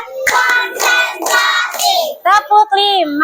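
Children in a classroom clap hands in a steady counted pattern, several sharp group claps spaced about half a second apart under their loud chanting, followed by a lone adult voice.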